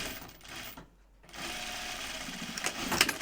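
A sewing machine stitches an apron dress in two short runs of steady, fast mechanical whirring, broken by a brief pause, fairly quiet and close.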